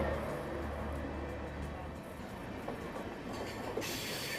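A Rajdhani Express overtakes the Lokmanya Tilak Sultanpur Express at Athgaon railway station, with a steady loud rumble of rolling wagons and rail noise throughout, plus a rising hiss near the end.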